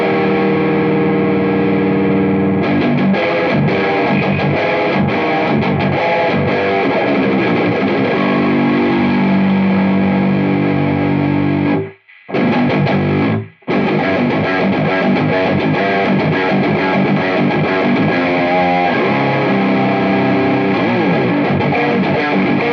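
An electric guitar played through a Freedman Demonfx GPA-100 amp and a Harley Benton 2x12 cabinet with the gain raised gives a loud, thick, distorted tone. It plays continuously, drops out in two short breaks, then carries on with no talking.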